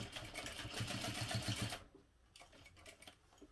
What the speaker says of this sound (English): I'm just going to sew one more line right across the top